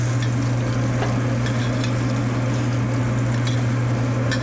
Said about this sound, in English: Okay, and we're going to sear that other side.